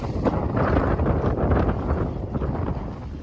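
Strong wind buffeting the microphone at a boatyard during the haul-out of a 1984 Chris-Craft Catalina 381, a loud continuous low rumble with gusty swells and no clear voices.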